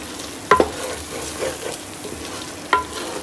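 Masala for a Hyderabadi meat gravy fries in released oil, a steady low sizzle broken by two sharp scraping clinks of a spoon against the pan near the start and one more toward the end.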